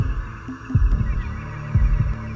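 Deep, thudding heartbeats in paired lub-dub pulses, about one per second, over a low hum.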